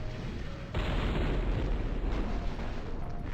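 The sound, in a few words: mech cannons firing in MechCommander Gold video game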